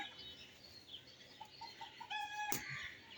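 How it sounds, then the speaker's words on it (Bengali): Faint, distant chickens clucking in short bursts, with a brief sharp clatter near the end over a quiet background. "আর উপরে মুরগির শব্দ মুরগি পালে"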